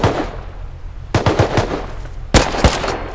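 Rapid bursts of gunfire in the survival video game Rust, two loud clusters of quick shots cracking close by, each burst trailing into a short echo.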